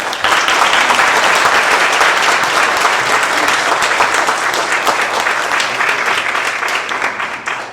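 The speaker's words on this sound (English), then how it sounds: "Let us give these women a round of applause for being here and for all their hard work and accomplishments." Loud, sustained audience applause filling a Women's History Month celebration hall in Perth Amboy, steady dense clapping that holds strong for several seconds before easing slightly toward the end, with no talking over it.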